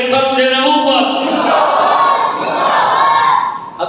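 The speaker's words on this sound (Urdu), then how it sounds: "نعرے جوش تے جذبے کو بیدار رکھنے واسطے بہت ضروری ہے" A large crowd at a religious gathering loudly chanting slogans in unison, voices rising together in a sustained, powerful roar.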